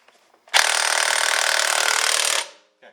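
A Bauer 20V half-inch cordless impact wrench hammers on a tractor tire lug nut in one loud burst of about two seconds. The rapid rattle is close and stands alone.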